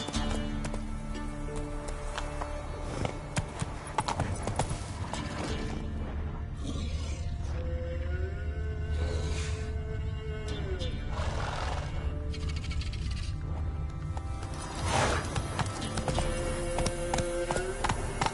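A horse gallops in The Witcher 3 on PS5, with rhythmic hoof clip-clop, whinnies and whooshing game sounds under music, while a man calls out to urge it on.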